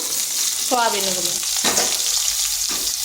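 Washed soybean chunks drop into leftover hot oil in a pan and hiss loudly in a steady, bright sizzle close by, with a few stirring scrapes and a brief tonal squeak early on.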